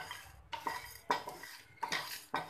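A metal spoon scrapes and clinks against a pan while masala spices are lightly roasted, five separate close stirring strokes in a loose rhythm, fairly quiet with no talking.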